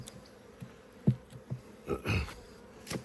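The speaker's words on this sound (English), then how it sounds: "Still got plenty of bees" Honeybees buzz around an open silver hive during an apiary inspection: faint, scattered bursts of buzzing as individual bees fly close past, quiet between passes.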